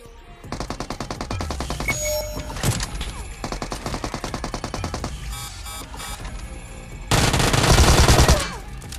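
Bursts of rapid Uzi fire alongside M24 sniper shots in PUBG, several loud rattling volleys separated by short pauses, with a heavier, denser blast near the end.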